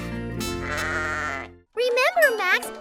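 Sheep bleating on a farm: a sustained, wavering bleat, a brief pause, then a second shakier bleat, close and loud.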